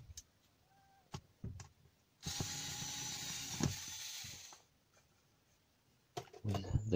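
Screwdriver opening a Cougar Atlas 650 power supply during repair so the PCB can be removed: scattered close clicks and taps, a steady scraping or whirring stretch in the middle, then more handling clatter, with no talking.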